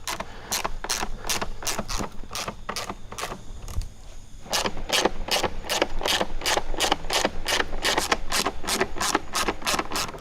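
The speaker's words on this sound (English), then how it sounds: "Looks like we have a few more Torx screws holding the lid to the airbox." Torx screws being backed out of the airbox lid on an Audi A4 with a driver bit, giving a steady run of rapid, sharp ticking clicks throughout, with a brief pause near the middle, close up and fairly loud, no talking.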